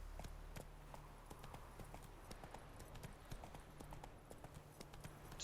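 Video game horse Roach trotting: a steady, rhythmic clip-clop of hooves on a path, fairly quiet and continuous throughout, with faint background ambience.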